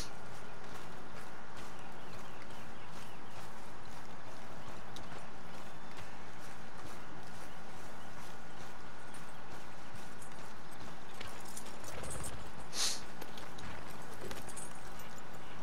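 Steady clip-clop of horse hooves walking at an even pace in Red Dead Redemption 2, fairly quiet, with a brief louder rustle and thump near the end.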